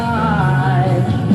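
A descending bass rundown plays within a full music mix before the pre-chorus, dense and loud with sustained tones and steady rhythm throughout the brief excerpt.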